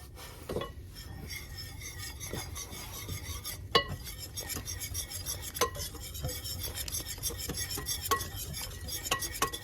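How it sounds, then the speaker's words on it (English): A whisk scraping and clinking against a bowl as milk and a breakfast mixture are beaten for Christmas morning, a close, steady rhythmic stirring with occasional sharper taps on the bowl's rim. "And whisk that a little bit."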